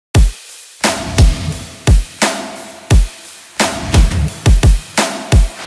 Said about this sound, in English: All of your drums and effects together should sound like this.